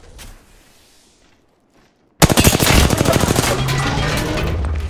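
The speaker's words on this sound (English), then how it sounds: "I'm taking shots." R-301 rifle fire in Apex Legends erupts after a near-silent pause, a loud, rapid continuous burst of closely spaced shots sustained to the end.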